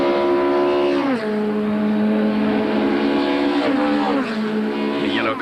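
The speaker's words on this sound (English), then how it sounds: "Car just coming into screen is Garth Wabashki's privateer Toyota Camry." A privateer Toyota Camry touring car racing at Killarney in 1998, its engine loud and close, revving high then dropping pitch with gear changes as it passes.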